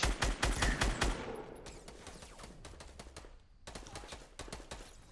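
Rapid bursts of automatic gunfire in a Fortnite match, loud and close, rattling in dense volleys that thin out into scattered shots, with no voices over them.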